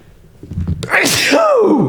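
A sneeze bursts out close to the mic after some low murmuring, then a voiced groan-like tail trails off, in a casual Polish vlog setting.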